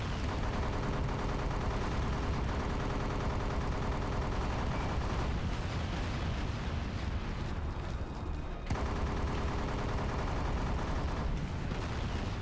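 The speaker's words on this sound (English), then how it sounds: "I'm getting shot at here." Dense, continuous video game gunfire roars for the whole stretch as rapid overlapping shots and booms, loud and close, with a brief dip near the end before the barrage resumes and no voices over it.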